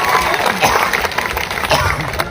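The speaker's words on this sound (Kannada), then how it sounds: "ಜೋರಾಗಿ ಚಪ್ಪಾಳೆ ಬಾರಿಸ್ರು." A crowd at a sugarcane farmers' protest claps loudly and continuously, dense and close, with some voices mixed into the noise.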